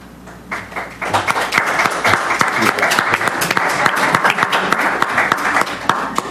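Audience applause at a creative arts night poetry reading, a dense crackle of many hands clapping that swells after a quieter start and holds steady to the end, with scattered voices beneath.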